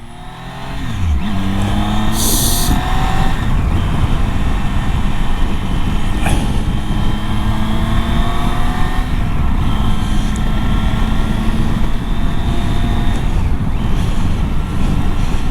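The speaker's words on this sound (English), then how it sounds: "The sound of this triple when it's in full tune and wound up" A Triumph Tiger triple-cylinder motorcycle engine roars loudly and continuously, revving up and down through gear changes with wind rush on Kirkstone Pass in the Lake District, close and powerful throughout.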